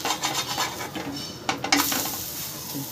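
Spinach breakfast snack frying in a pan, a utensil scraping and clinking against the metal as the piece is turned over, with a couple of sharper knocks near the middle and a soft sizzle underneath.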